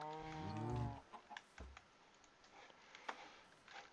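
Cows in a Minecraft Tekkit mod farm give a short low moo at the start, followed by faint clicks and taps under quiet background.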